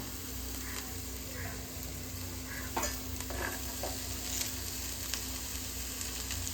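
Shredded cabbage sautés quietly in a pan with a soft, steady sizzle, while a spatula scrapes and taps through it in a few brief, irregular strokes, all fairly faint against a low background hum.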